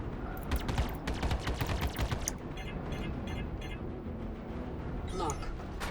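Missiles launch in rapid succession in the Star Citizen space game while navigating an asteroid field, a dense barrage of sharp blasts layered over engine rumble and a voice talking over the action.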